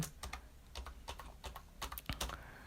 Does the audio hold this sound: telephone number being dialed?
no